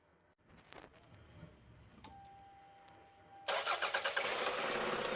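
A 1992-1996 Toyota Camry engine cranks and catches after some faint handling noises, then runs loud and rough with a pulsing rhythm, close by with no talk.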